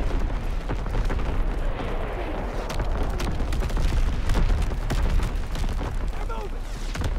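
Battlefield artillery in Call of Duty WWII: a dense, continuous barrage of booms and crackling impacts, loud and close, with game voices shouting over the din.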